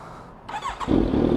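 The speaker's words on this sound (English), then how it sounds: "I'm gonna turn it on. Hear the exhaust." A Kawasaki Z900 motorcycle starter whirs and squeals briefly, then the engine catches and rumbles into a loud, low exhaust idle, close by.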